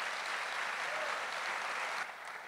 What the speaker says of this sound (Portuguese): Salva de palmas para você, Cícero Calixto.